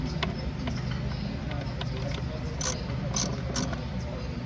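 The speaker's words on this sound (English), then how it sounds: "ratchet, tighten it up. Cross pattern." A ratchet tightens the throttle body bolts on a 2016 Nissan Altima, giving rapid close clicking in short bursts with a few sharper metallic ticks over low background hum.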